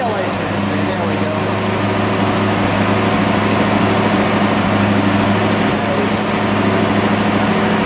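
A 1970 Mercury Cougar Eliminator with a Boss 302 V8 rumbles at idle, a steady low exhaust drone with a constant humming undertone that holds evenly for the whole stretch without revving.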